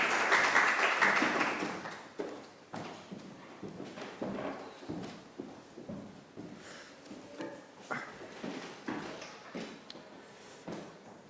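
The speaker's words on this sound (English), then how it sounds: "Please join me in thanking Thierry Nazzi with a round of applause." An audience claps for a few seconds after a speaker is introduced at a talk, then the applause fades into scattered knocks and footstep-like taps in a quiet room.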